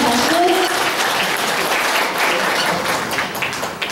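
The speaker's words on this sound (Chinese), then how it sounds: "好，我们再一次的掌声" Steady, loud applause fills a Buddhist hall opening ceremony in Jiali, with a large audience clapping continuously and dense throughout, easing only slightly toward the end.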